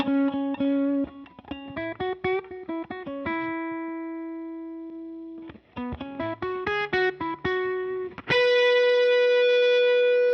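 Distorted electric guitar through a Line 6 Helix with the bias set to 10, playing quick picked note runs, a held sustained note, more fast phrases, then a ringing chord, harmonically rich and close.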